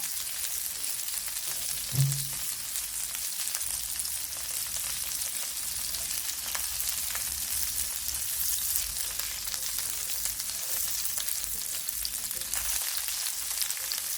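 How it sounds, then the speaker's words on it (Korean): Skewered green chili and pork jeon pan-frying in oil, giving a steady close sizzle with crackle throughout and one brief soft thump near the start. "지글지글 맛있게 익고 있네요."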